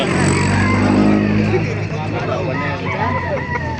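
Roosters crow and chickens cluck at a busy poultry market in Baliuag, Bulacan, the birds partly buried under steady nearby talk and bustle, with a motor rumbling in the background.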